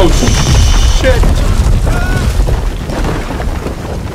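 Loud, dense storm rumble with heavy low booms and crashing in Star Wars Jedi: Survivor, sustained throughout with some voice-like tones mixed in.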